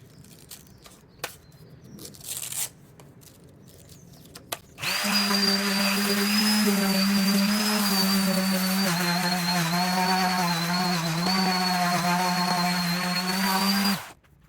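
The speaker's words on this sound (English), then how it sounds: "this is what I've just done with the mouse sander, and it's sanded out all the bits" A mouse sander runs on solid wood timber, a loud, steady electric whine with a buzzing hum that holds for about nine seconds and then cuts off, after a few scattered knocks and handling bumps.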